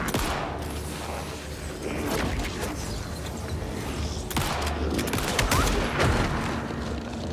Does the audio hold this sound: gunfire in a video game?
yes